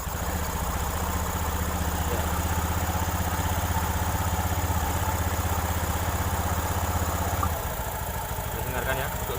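A CVT automatic scooter engine, just serviced with its CVT cover still off, idles steadily with a low, even hum and a constant mechanical whir, and its tone shifts slightly near the end.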